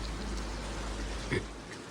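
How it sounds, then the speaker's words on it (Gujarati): Constant hiss of unseasonal rain pattering down in a village, fairly faint, with a low rumble underneath and one brief louder bump near the end. "અને વરસાદ પણ બહુ પડે છે"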